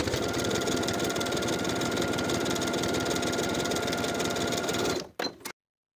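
A sewing machine runs continuously while understitching a shorts pocket seam at an eighth-inch allowance, a close steady mechanical whir and rapid needle chatter that stops abruptly near the end, leaving silence.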